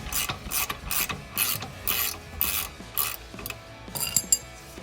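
Ratchet backing out the steering damper bolt on a Jeep Wrangler JL during a Bilstein B8 5100 install, a series of quick close clicking bursts in an even rhythm, with a few metallic taps at the end.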